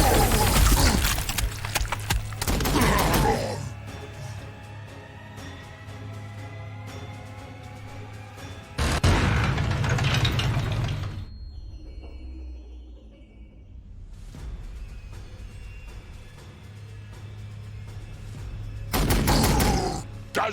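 Gunfire in the Warhammer 40,000: Sanctus Reach video game, with dense bursts of shots and rattling volleys coming in loud clusters at the start, middle and end, and quieter battle sounds in between.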